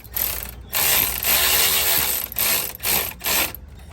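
Ratchet clicking on a 2011 front-wheel-drive 3.6-litre Dodge Avenger's CV axle bolts, with several bursts of rapid close mechanical ratcheting separated by short pauses.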